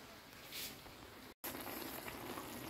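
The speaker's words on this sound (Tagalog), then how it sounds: "Kumukulo na siya mga kapaps." A quiet, steady bubbling hiss of a pot of vegetables at a boil, broken by one brief moment of silence.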